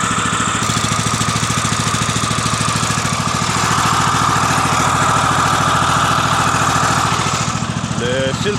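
The small engine of a Woodland Mills HM126 sawmill idles as it warms up in cold weather, a loud, steady, rapid chugging that holds level throughout, with a few faint squeaks at the end.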